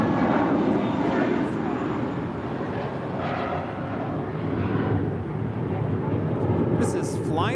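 An airliner takes off from runway 25 right at LAX, its broad engine roar holding steady and loud throughout, with a brief higher whine at the very end.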